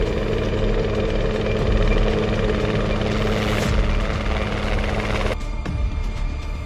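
A helicopter flies close and loud, its steady rotor thump and engine drone filling the whole stretch without pause and easing slightly near the end; no one speaks.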